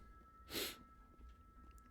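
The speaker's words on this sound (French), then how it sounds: "puis je renifle à chaque fois" A single short, breathy sniff or snort up close, followed by near silence and a faint click at the end.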